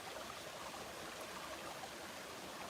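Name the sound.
small jungle brook flowing in Costa Rica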